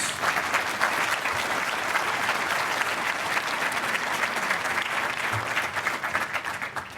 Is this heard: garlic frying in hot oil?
no